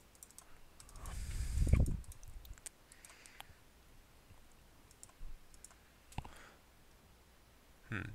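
A computer mouse clicking while a flight simulator's campaign builder is set up: a few sharp, close clicks spaced seconds apart against a faint, quiet background.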